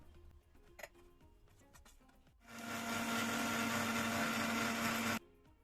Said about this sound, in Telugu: ఇది కూడా మనం మిక్సీలో పట్టించేద్దాం